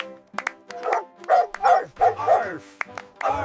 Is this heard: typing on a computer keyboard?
no